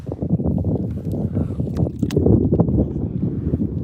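Steady wind buffeting the microphone on a kayak while bass fishing, a low rumbling gusty roar with some water splashing, continuous throughout.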